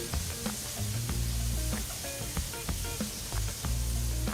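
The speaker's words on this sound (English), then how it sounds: "as that is sauteing rather quickly" Shrimp scampi ingredients sauteing quickly in a hot pan, a steady close sizzle with faint scattered clicks and no voices.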